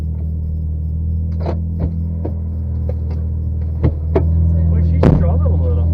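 A 500 HP all-wheel-drive BMW engine held at full throttle during a burnout attempt, a loud steady droning rumble with sharp clicks and knocks over it.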